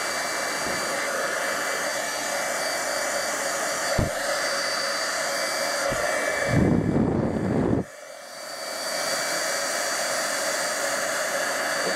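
A heat embossing tool blows hot air steadily onto embossed acetate card, a loud even whirring roar that briefly intensifies and then drops quieter as it is moved around.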